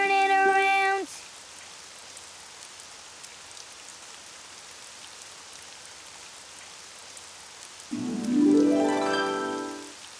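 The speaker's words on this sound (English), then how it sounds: "it's raining outside" Steady rain patters softly outside in a Daniel Tiger's Neighborhood episode, a constant hiss of drops, with a brief tonal cry at the start and a rising wail near the end.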